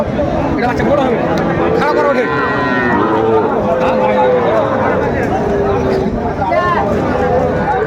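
Cattle and young calves, bulls and heifers, lowing repeatedly at a busy rural livestock market, several moos rising over a loud crowd of people chattering nearby.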